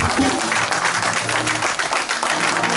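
Guests at a church wedding ceremony break into brief applause, a dense burst of clapping from a gathered congregation with voices calling out amid it, fairly loud and close.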